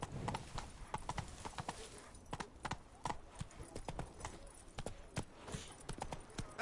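Hooves of Roach the horse from The Witcher 3 pound in a fast, uneven galloping rhythm, close and fairly loud, with no voices over them.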